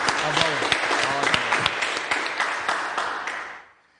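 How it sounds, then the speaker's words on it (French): Audience applause in a TV studio for a baton twirling club, a moderate burst of clapping with some voices mixed in that fades out toward the end. "Ah, ça s'applaudit."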